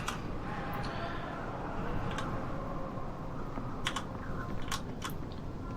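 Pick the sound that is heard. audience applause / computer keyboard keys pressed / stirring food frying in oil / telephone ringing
computer keyboard keys pressed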